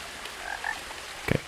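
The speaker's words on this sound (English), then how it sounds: "Don't just be a sound effect. Show me the frog." In What Remains of Edith Finch, a frog gives a couple of quiet chirping croaks, then one louder, deeper croak near the end, all over a low ambient hiss.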